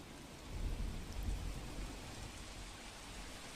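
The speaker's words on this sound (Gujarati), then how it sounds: "વલસાડ જિલ્લામાં વહેલી સવારથી ધોધમાર વરસાદ વરસી રહ્યો છે" Steady, dense monsoon rain pouring down with a low rumbling undertone in Valsad, Gujarat, continuous and fairly loud throughout, with no voices.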